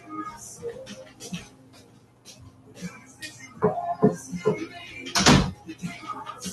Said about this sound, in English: Let me close the door of my grandson's bedroom.